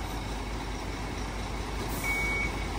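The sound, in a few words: tractor head truck reversing warning beeps, Transtron warning system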